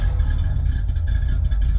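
The V8 of a 1975 Chevrolet Corvette, choked by the oil-crisis era, idling with a deep, loud, steady rumble, heard close up with no talk.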